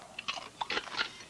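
Crunching of Cool Ranch Doritos chips, several quick crisp bites and chews close up in a brief burst, with no voices.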